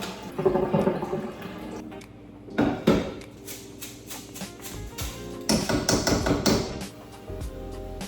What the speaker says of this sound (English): So I'm just going to dump this last bit of water out